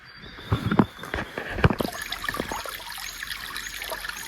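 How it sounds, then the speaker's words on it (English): Creek water flows and trickles at a gold-prospecting spot, with a continuous splashing wash and a few louder sloshing knocks near the start, close by. "I found flowing water."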